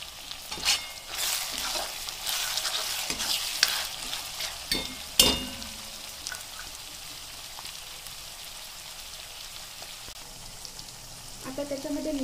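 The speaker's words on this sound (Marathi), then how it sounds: "ती पण छान प्रकारे तळून घ्यायची आहे।" Capsicum frying in a pan for veg biryani, a steady hiss with scattered stirring clatters and a few sharp utensil knocks early on, settling into a quieter, even sizzle toward the end.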